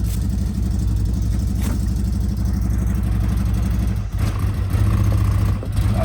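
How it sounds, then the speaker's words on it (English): A CFMOTO UForce 1000 side-by-side fitted with an RNG clutch kit runs with smooth throttle, its engine a loud, steady, low drone that swells slightly near the end. "Look at that, smooth throttle control."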